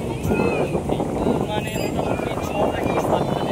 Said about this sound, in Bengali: হাওয়া দিচ্ছে, ঝড় বৃষ্টি আসতে পারে।